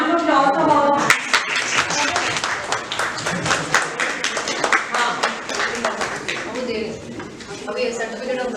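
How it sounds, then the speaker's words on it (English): A conference audience at an international business strategy conference breaks into a round of applause after a brief spoken introduction. The clapping is dense and continuous and tapers off slightly at the end. "Please have a little round of applause for all."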